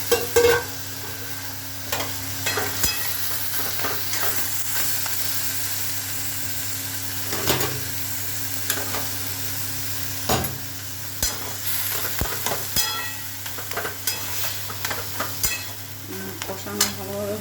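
Onion-spice curry masala being sautéed and stirred in a pan, a continuous frying sizzle under repeated scraping strokes of a spatula, close and steady with a low background hum.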